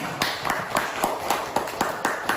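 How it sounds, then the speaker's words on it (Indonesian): Students in a classroom clap in a slow, regular rhythm, about nine sharp evenly spaced claps, fairly close and distinct against a quiet background. "terima kasih, tepuk tangan."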